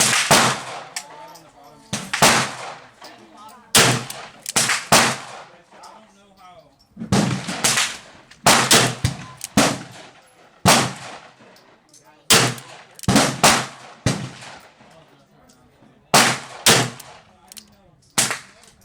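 Gunfire at an indoor shooting range, loud, sharp, booming reports coming singly and in quick clusters across the whole stretch, with echoing decay between shots and no talk.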